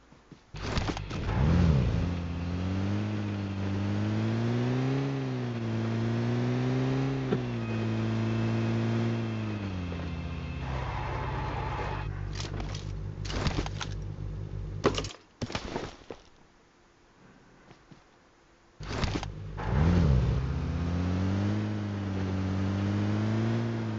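A car engine in PUBG Mobile on the Erangel map drones and revs up and down in smooth sweeps, loud and close, cutting out briefly before revving again.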